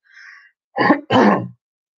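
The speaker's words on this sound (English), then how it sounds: "I'm about to cough." A person clears their throat close up: a faint breath, then two quick, harsh rasps.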